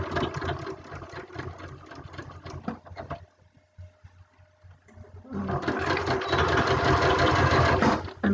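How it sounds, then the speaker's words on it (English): A sewing machine stitching a fabric pincushion runs in a steady buzzing whir, stops for about two seconds, then starts again and keeps going louder to the end. "I'm going to do a little reverse stitch"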